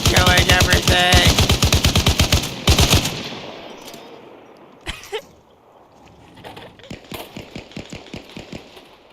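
Rapid automatic gunfire from an Arma Reforger battle, a dense loud burst of machine gun rounds for over two seconds, then a short follow-up burst and scattered softer shots and impacts trailing off.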